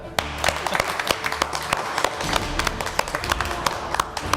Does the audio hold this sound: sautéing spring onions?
no